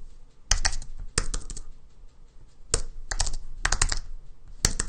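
Quick bursts of keystrokes on a computer keyboard, arriving in short clustered flurries separated by pauses, close and fairly loud with no speech.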